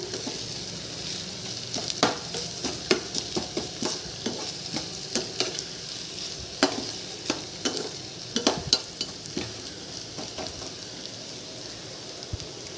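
Onions sauté in a pan for a prawn and ground spinach gravy with a soft, continuous sizzle. Frequent crisp spoon taps and scrapes mark steady stirring, close and fairly quiet.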